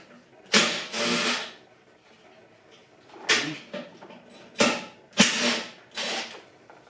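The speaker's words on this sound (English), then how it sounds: "These are 7/16 nuts. I'm going to remove them." Hand ratchet working 7/16 nuts off a 2020 Harley-Davidson Road King Special during a backrest install, heard as several short bursts of rapid clicking separated by pauses, fairly close.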